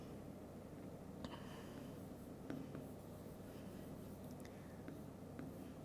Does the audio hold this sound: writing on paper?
yes